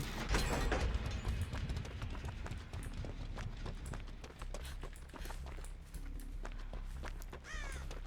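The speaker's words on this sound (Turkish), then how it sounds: "Orada bir durdum kargaya küfür edecektim bir korkuttu beni de." Crow cawing in the horror game Dead by Daylight, a burst of harsh caws up front, then scattered clicks and footstep-like thuds over low ambient rumble, fairly close.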